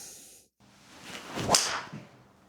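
A single sharp swish and crack of a Tour Edge Exotics mini driver striking a golf ball off grass outdoors, rising out of faint background noise and fading quickly.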